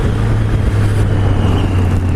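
A Triumph Street Triple 765RS motorcycle engine runs with the throttle closed, a low steady hum beneath loud wind rush while riding, with no talking.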